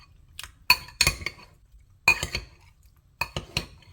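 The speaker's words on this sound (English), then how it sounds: "And then I'm going to give this a good stir." Salt and black pepper being stirred in a pan, heard as bursts of sharp metallic clinks and scrapes of a utensil against the pan in three quick groups, close and clear, without talk.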